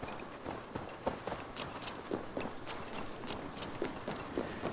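Horse hooves clip-clop steadily in Assassin's Creed Valhalla, a fairly quiet, even rhythm of hoofbeats with faint mechanical creaks behind, and no talking.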